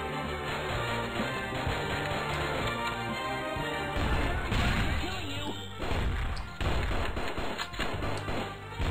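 Gunfire and impacts in the Strike Force Heroes flash game, a dense run of loud cracks, bursts and crashes layered over steady game music.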